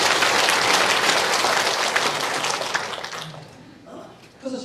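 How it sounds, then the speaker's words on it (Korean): A church congregation bursts into loud, dense applause that holds steady, then thins out and fades over the last second or so, with a voice emerging faintly near the end. "그 영광을 하나님께 한번 박수로 영광 돌려볼까요?"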